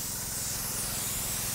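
Telluride insecticide sprayed onto chili plants makes a steady, close hiss that runs through without a break and stays at an even, moderate level with no talking.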